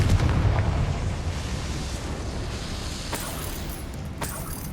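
A Confringo blasting spell explodes in the Hogwarts Legacy video game, a loud booming burst at the start that decays into a lingering low rumble, with a couple of fainter pops later.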